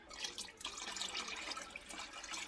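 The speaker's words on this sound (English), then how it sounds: "When I add the lye into the oil, I like to kind of pour it slowly" Lye solution is poured slowly into oil while making hot process soap, a faint, close, continuous liquid trickle with no break.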